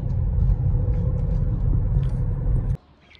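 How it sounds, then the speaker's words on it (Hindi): A car drives with a loud, steady low rumble that fills most of the clip and then cuts off abruptly, leaving near silence. "गाड़ी बहुत आवाज करने लग गई हुई है"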